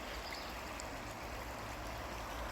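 A stream dammed by fallen trees on an island gives a soft, steady wash of flowing water, faint and unbroken throughout.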